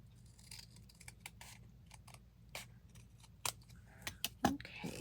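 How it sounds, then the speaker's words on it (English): Scissors trimming junk mail envelope paper: a close, quiet series of short snips and crisp cuts at an irregular pace, with a few louder clips toward the end. "I'm gonna trim that off because that's bothering me."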